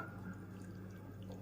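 Water trickles and drips into a jar of pickled lemons, a short, soft, steady pour close by with no talking.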